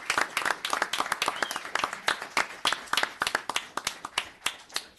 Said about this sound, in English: So if I get a nice round of applause for Detective Sergeant Matthew Rasiopo.